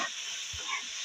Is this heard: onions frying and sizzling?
yes